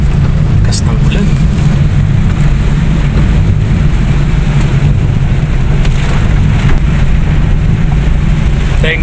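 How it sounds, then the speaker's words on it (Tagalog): Heavy rain pours onto a moving vehicle with its wipers running, a loud, dense, steady roar of drumming water that never lets up. "Lakas ng ulan."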